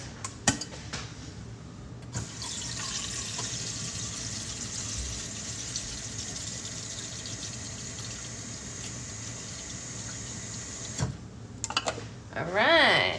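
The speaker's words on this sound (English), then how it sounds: "I'm making coffee as per usual." Water pours steadily for about nine seconds while coffee is being made, a close continuous stream framed by a few clinks and knocks of kitchenware at the start and end.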